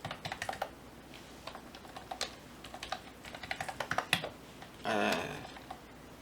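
Fingers tapping a computer keyboard while entering accounting data, a steady run of quick, light key clicks at moderate distance, with a brief louder clatter near the end, no speech.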